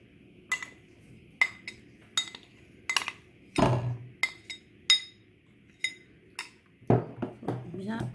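A spoon stirs melted chocolate with condensed milk in a bowl, giving sharp, bright clinks and taps against the rim at irregular intervals, with a couple of heavier knocks, close and distinct.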